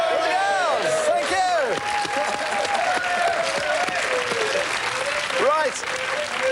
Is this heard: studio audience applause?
yes